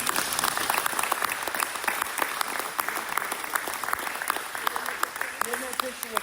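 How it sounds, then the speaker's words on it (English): Applause for students at a school board meeting, a steady burst of clapping from the gathered audience in a room, with a voice briefly speaking over it near the end. "Now we can give them a big old round of applause."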